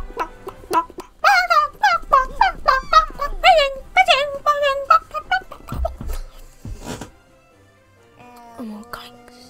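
A run of chirpy, warbling bird cries from Pidgeot in Pokémon Let's Go, Eevee, repeated quickly over several seconds, then game tones as they fade out.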